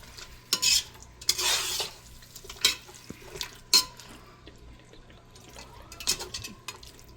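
A spoon stirs a mutton dum biryani mixture in a pot turned up to high heat, with irregular scraping and clattering bursts and soft wet sizzling between them, close by and without speech.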